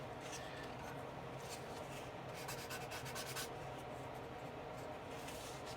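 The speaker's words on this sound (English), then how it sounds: "finer grit sandpaper will work just fine. And just take your time." Fine-grit sandpaper rubbing on Estes Wizard model rocket parts, a faint, continuous scratchy rasp with quick back-and-forth strokes that briefly grow busier midway.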